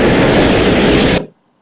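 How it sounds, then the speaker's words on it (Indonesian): A free online gunshot sound effect plays as a loud, dense blast of noise for about a second, then cuts off abruptly into silence. "Oke, suara tembakan ya."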